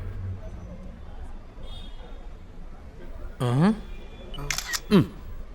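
A camera shutter clicks a couple of times in quick succession amid people talking and a low background murmur.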